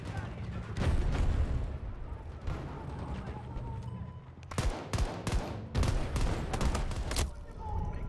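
Gunfire in Battlefield 2042 on a milsim server, with repeated sharp, loud shots in bursts and clusters over a rumbling battlefield background, some volleys close together toward the end, with speech in the background.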